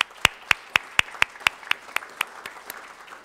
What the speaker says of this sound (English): Let's give them a round of applause for their role.